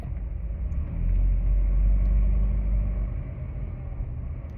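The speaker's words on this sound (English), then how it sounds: "I'm on the Beltway, and it's just like a lot of traffic out here" Dense highway traffic on the Beltway heard from inside a moving car: a constant low road rumble and engine drone, swelling slightly midway, with no talk.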